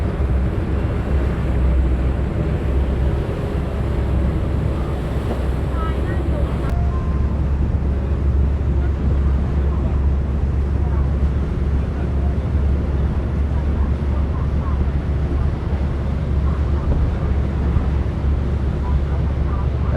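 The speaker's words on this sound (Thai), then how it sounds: "ดูความแตกต่างระหว่างเรือธรรมดากับเรือที่สำหรับ บริการนักท่องเที่ยวชมวิวทิวทัศน์ริมแม่น้ำเ่าพระยา" A tourist sightseeing boat cruises on the Chao Phraya River in Bangkok, with a steady deep engine drone, water wash and wind rumble throughout, close and continuous, with no clear talk.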